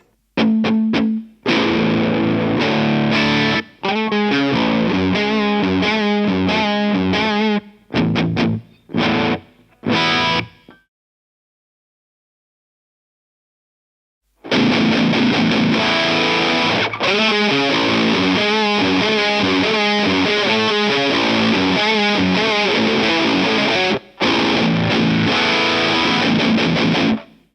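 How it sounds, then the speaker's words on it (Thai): Electric guitar through a Lichtlaerm Audio Medusa death metal distortion pedal plays busy riffs, heavily distorted, loud and saturated, stopping briefly into silence midway before resuming for a long stretch. "และเมื่อกี้นะครับก็คือเสียงที่เปิดเอฟเฟกครับผม"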